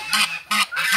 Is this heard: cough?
no